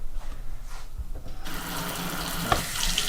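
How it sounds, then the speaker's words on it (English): A kitchen faucet in a remodeled mobile home kitchen turns on partway through, water gushing steadily and close into the sink after a quieter start. "Faucet works good."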